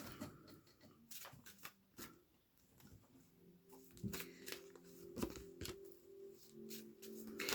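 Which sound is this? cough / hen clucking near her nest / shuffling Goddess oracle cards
shuffling Goddess oracle cards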